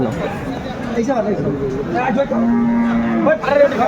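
Cattle at a rural market in Dinajpur moo loudly and close by, one long low call standing out over a busy crowd of people chattering and calling throughout.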